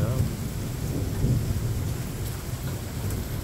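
Thunder rumbles low and steady through a spooky storm while heavy rain pours down, a continuous loud wash of rain with deep rolling thunder underneath and no voices.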